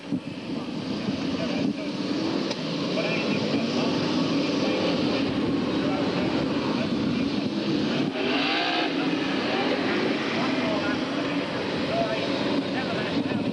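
Saloon race cars lapping the Skegness circuit during a 1994 British Drivers Championship and National Saloons meeting, a steady loud engine drone with wind buffeting throughout and a commentator talking over it.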